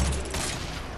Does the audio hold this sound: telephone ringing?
no